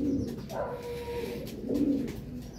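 A racing pigeon cooing close by, two soft low throaty coos separated by a pause, over faint background noise.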